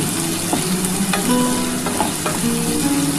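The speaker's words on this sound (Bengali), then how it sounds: "এবার একটু খুব ভালো করে ভেজে নিতে হবে" Boiled freshwater snails fry with onion in a pan, giving a loud, constant sizzle broken by occasional sharp scrapes of stirring close by.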